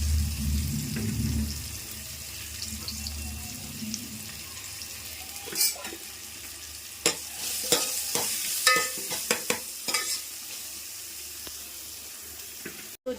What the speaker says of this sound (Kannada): ಒಗ್ಗರಣೆಗೆ ಎಣ್ಣೆ, ಸಾಸಿವೆ, ಬೆಳ್ಳುಳ್ಳಿ, ಕರಿಬೇವು ಮತ್ತು ಒಣಮೆಣಸಿನ್ಕಾಯಿ 1-2 ಹಾಕ್ಕೊಂಡಿದ್ದೀನಿ